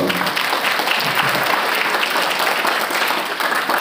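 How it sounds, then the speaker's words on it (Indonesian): Dense, steady applause from an audience at a Ramadan welcoming event in a school hall, continuous clapping filling the space without a pause. "Tepuk tangan untuk kita semua hari ini."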